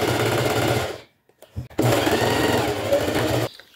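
A domestic sewing machine stitches fabric with backstitching in two fast whirring bursts of rapid needle clatter, close and loud, split by a brief pause with a small click.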